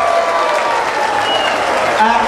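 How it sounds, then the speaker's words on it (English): Crowd at a promotional boxing show applauding both boxers after a bout ruled a draw, steady dense clapping and cheering filling the room, with a voice calling out over it. "Give a round of applause there for both boxers there."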